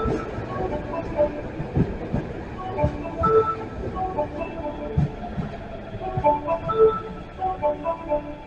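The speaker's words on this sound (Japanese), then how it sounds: "21系10両編成来ました。" An Osaka Metro Midosuji Line 21 series ten-car train pulls into Senri-Chuo station platform 2 on the Kita-Osaka Kyuko line, with steady rumbling wheels, clicking rail joints and squeals over several seconds, a station announcement voice faintly underneath.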